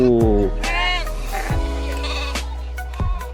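Sheep bleating loudly and close at a farm, several wavering cries overlapping one another with no break, under a steady low background hum.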